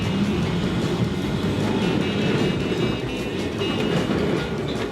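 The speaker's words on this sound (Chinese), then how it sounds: "轨道电车也太帅了，好复古啊！" A vintage rail tram runs through the streets of Milan, a steady, loud rolling rumble of wheels on track with faint rattling throughout, heard from close by with no talking.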